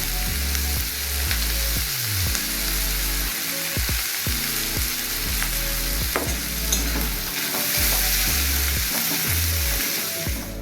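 Chopped green chilies fry in a pan for egg tadka while being stirred repeatedly, with a constant sizzle broken by scraping strokes, over background music.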